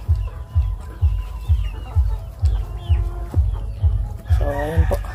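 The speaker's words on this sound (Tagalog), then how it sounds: "Nagsilabasan na po yung ating mga manok." A rhythmic low pulsing repeats steadily under the clucking of several layer chickens nearby on a poultry farm, with a brief louder squawk near the end.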